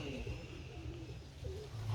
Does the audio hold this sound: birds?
yes